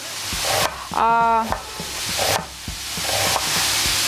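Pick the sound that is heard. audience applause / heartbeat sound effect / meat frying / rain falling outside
meat frying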